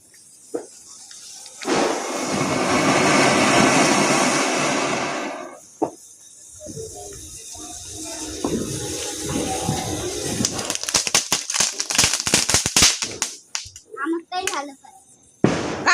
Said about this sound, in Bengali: বাজি ফাটাচ্ছে সেল, তাই তো?